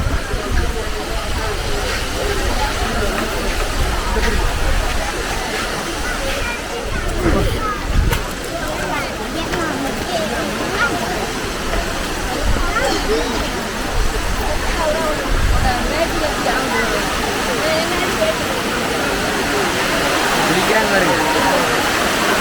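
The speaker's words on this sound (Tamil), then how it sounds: "அருவிக்கு பக்கத்தில் வந்துட்டோம்" A loud, constant roar of rushing water from a nearby waterfall by a temple at Sivasailam, Tenkasi, fills the whole clip, with faint voices mixed in.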